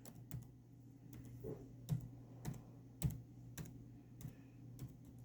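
Someone types on a computer keyboard, with soft, irregular key clicks at moderate pace in a quiet room.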